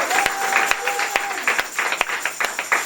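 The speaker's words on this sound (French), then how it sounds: "On acclame le Seigneur, Joël." Congregation at a wedding applauding in a steady, dense wash of clapping that fills the space, with sharp louder claps and crowd voices mixed in throughout.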